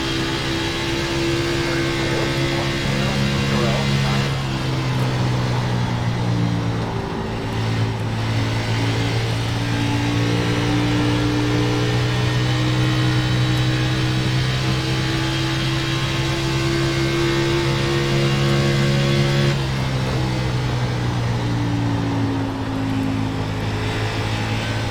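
NASCAR Xfinity race cars at Charlotte in the iRacing sim, a loud steady engine drone with several cars' pitches layered and shifting as the pack runs close together throughout.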